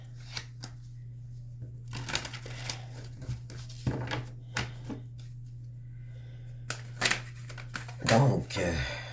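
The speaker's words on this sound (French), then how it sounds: "je vais aller remettre des cartes ici" Tarot cards being laid out and handled on a table, with light scattered slaps and shuffles in irregular bursts and a steady low hum underneath.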